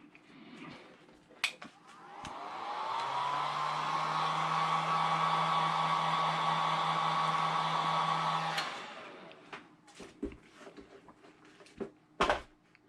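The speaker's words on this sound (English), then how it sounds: "I'm gonna use the heat gun, I guess," A heat gun blows steadily for about six seconds while drying fresh paint on a pair of 1985 Sky Jordan sneakers under restoration, its loud whooshing roar starting and stopping abruptly, framed by a few light clicks and taps.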